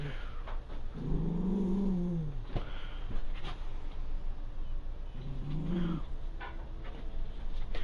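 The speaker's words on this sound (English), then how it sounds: "Sorry if you hear my dogs grumbling in the background." Pet dogs grumbling at home in the background, two low drawn-out growling moans separated by a pause, with faint scattered clicks and room noise around them.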